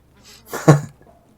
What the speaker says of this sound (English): The ghoul is coughing in the corner.